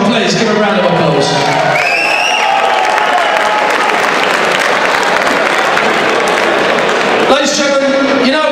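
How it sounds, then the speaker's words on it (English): Dense crowd applause with cheers and whoops fills a fight event for two competitors at the close of a bout. Loud and sustained through the middle, with someone speaking over it at the start and end. "give a round of applause"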